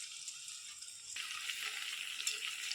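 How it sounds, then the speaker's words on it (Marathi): Moong dal vada fry in oil over a low flame, giving a soft continuous hiss and sizzle that brightens partway through as it bubbles more. "मंद आचेवर तळून घेऊ"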